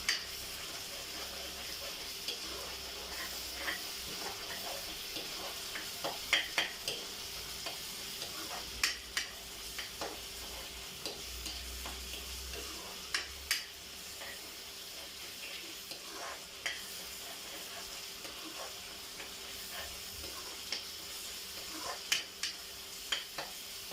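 Onions frying in a pan in a home kitchen, a soft steady sizzle with scattered clicks and scrapes of stirring, fairly quiet and without talk.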